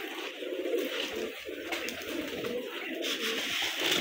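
Pigeons coo steadily at close range in a calm rooftop or yard setting, soft repeated throaty calls overlapping without pause, with no talking.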